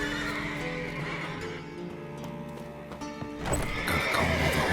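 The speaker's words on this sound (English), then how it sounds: "Gotta calm all the horses before they wake the guards." Horses in The Witcher 3 give a loud, drawn-out whinny over steady ambient game sound, followed by shuffling hoofbeats and another rising neigh near the end.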